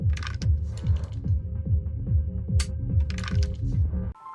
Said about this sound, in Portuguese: Se decidir atirar em si mesmo, você pode ter a sorte de ouvir o estalo seco do cartucho vazio.